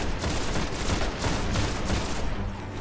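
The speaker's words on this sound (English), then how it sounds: "It's been so long since I've used the rocket launcher." Rocket launcher fire and explosions in Destiny, a dense, noisy, continuous barrage of blasts and gunfire with no clear gaps, fairly loud throughout.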